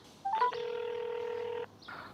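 Touch-tone keypad dialing on a telephone: a couple of short beeps, then a long steady dual tone lasting over a second, followed by a softer tone.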